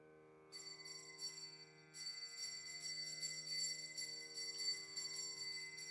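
Small ritual bell rung during a Sita Jayanti puja, faint rapid tinkling entering after a moment and continuing over a steady sustained drone.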